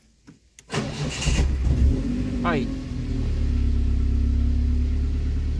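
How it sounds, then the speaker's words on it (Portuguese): A car engine cranks briefly after a fuel pump check, catches and settles into a steady idle, loud and close, with a brief spoken word near the start. "E agora a gente consegue dar partida aqui no carro"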